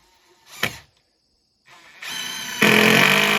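A power driver sinks composite deck screws into wooden deck boards at an old camp: a brief whirring burst, a pause, then a longer, louder sustained whine that builds in two steps and stops abruptly.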